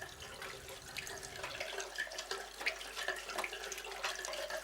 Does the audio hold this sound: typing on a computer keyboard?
no